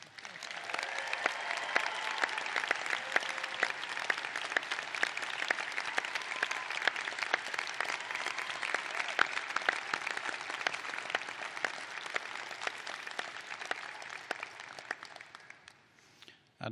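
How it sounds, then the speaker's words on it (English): Applause from a large audience at a law school pre-commencement ceremony, dense sustained clapping with a few cheers that carries on steadily and then tapers off near the end. "let's give a big cheer for Kevin O'Malley and William Johnson"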